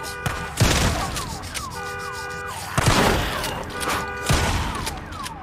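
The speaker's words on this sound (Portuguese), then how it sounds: "Deixa eu desativar esse alarme, que vai estar chamando muita atenção do... dos zumbis que estão aqui perto." An alarm siren wails in the zombie video game Days Gone, its rising and falling tones repeating under bursts of loud in-game noise and crashes.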